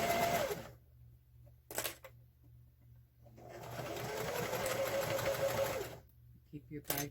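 A sewing machine back stitching a fabric drawstring bag, running in a short burst, pausing, giving a quick whir, then a longer steady run before stopping, with faint clicks between runs.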